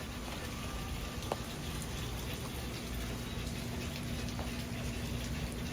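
Rain falling outdoors beside a van and truck camper, a steady close wash of drops and trickling water with a few sharper taps on surfaces, continuous and even, without talk.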